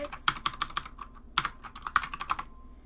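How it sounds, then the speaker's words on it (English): Fingers type on a computer keyboard in quick irregular bursts of close, crisp key clicks with short pauses between, and no voices over them. "My typing is terrible."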